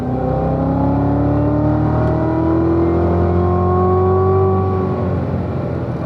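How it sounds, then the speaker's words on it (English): A car in third gear under hard acceleration, a loud close engine drone with the revs climbing steadily the whole way through, no talk over it. "So when I'm in third gear and we step on it"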